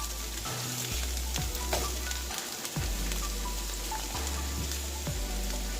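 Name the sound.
cabbage thrown into a hot pan, sizzling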